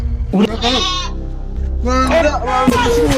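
A goat tied to a motorcycle bleats in two or three close, wavering cries separated by short pauses.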